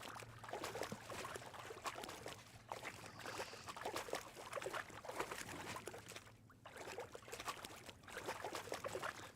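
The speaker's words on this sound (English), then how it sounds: "I don't like the water sounds at all." Water sloshing and trickling as a boat travels in Kingdom Come: Deliverance 2, a close, continuous wash with repeated splashy surges and a faint low hum underneath, no speech.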